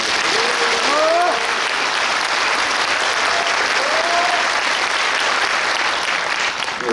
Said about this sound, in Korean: 크게 박수 한번 보내주시면 고맙습니다